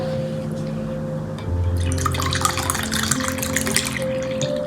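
A cup of water is poured into a curry spice base, a gushing splash that begins partway through and runs on steadily to the end, after a quieter stretch with a low hum.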